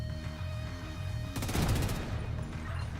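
During Division 2 Warlords of New York gameplay, a Chameleon rifle lets off a rapid burst of shots lasting about half a second, set over a steady droning game soundscape.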